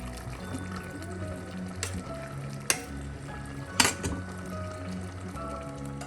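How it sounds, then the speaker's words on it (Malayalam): Creamy cashew chicken gravy simmers in a pot as a spoon stirs it, with soft bubbling, gentle scraping and a couple of sharp clinks against the pot, close by. "വീണ്ടും ഒന്ന് ഇളക്കി കൊടുക്കാം"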